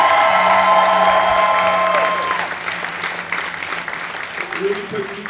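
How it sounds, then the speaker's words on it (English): A stadium crowd at a charity soccer game applauds and cheers, loud at first, then fading to scattered clapping and murmuring with some talk. "Fans, let's all stand and give a big round of applause to the man himself, Steve Zakuani."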